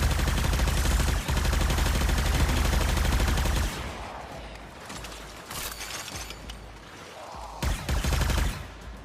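A mini chain gun in Warframe fires in a loud, continuous, rattling stream for about four seconds, then gives way to scattered, quieter bursts and mechanical clatter, with no voices.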